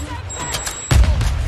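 An artillery strike in a video game lands with a sudden low boom partway through, followed by rumbling blasts over a busy game soundscape.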